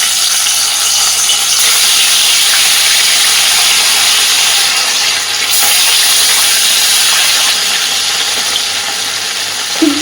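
Bele fish (sand goby) fry in hot oil with a loud, continuous hissing sizzle that holds steady throughout, with no voices.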